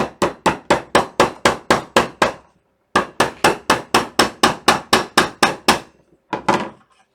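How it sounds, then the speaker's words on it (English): Steady, sharp hammer blows ring out in a quick even rhythm, about two dozen strikes in two runs, followed by a short scraping rattle. "Take my hammer."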